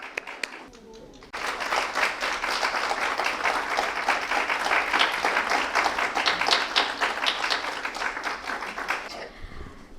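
An audience gives a full, sustained round of applause at an evening event, rising abruptly after a quiet opening into dense steady clapping that fades out near the end.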